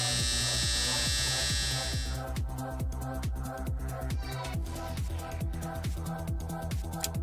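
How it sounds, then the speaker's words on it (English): Electric hair clippers buzz steadily and loudly up close while shaving a person's head, the constant motor hum shifting in pitch as the blades cut through hair, with no talking. "I'm shaving my head."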